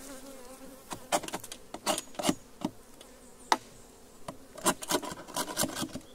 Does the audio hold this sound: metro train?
no